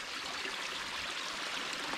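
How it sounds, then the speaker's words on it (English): A small waterfall feeding a stream along a property boundary in the countryside, heard as a continuous, even rush of running water, moderately quiet and steady throughout, with no talking. "It's a pretty small waterfall"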